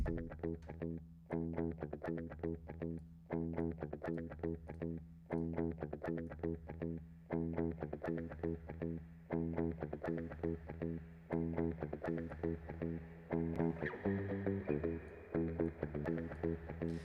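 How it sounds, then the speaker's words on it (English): A choppy, effected instrumental line repeats in a steady rhythm, each note trailed by a delayed wash of reverb with rhythmic pre-delay, in electronic music. "So now what I have is a rhythmic pre-delay on my reverb."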